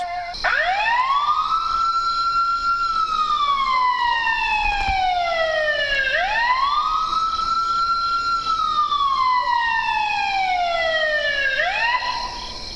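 A recorded siren plays back, a loud wailing tone rising and slowly falling in long repeated sweeps, about three cycles with no other sound.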